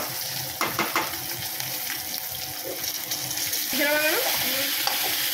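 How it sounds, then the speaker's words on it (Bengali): Fish heads frying in a pan, giving a continuous crackling sizzle with scraping and stirring knocks, close and moderately loud, with a brief faint voice in the background. "এদিকে মাছের মাথাগুলো ভেজে নিচ্ছি"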